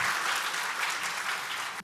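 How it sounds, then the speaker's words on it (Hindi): An audience at the VNM Foundation Pahal project closing ceremony claps in a brief, even burst of applause, a steady crowd patter lasting under two seconds without talk. "तो एक बार जोरों से तालियां हो जाएं आनल मैम के लिए"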